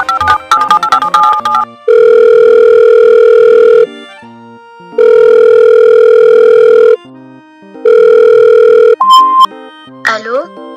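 Telephone call being placed, with a rapid flurry of dialing beeps, then three long loud ringing tones in regular rhythm, ending as the line is picked up.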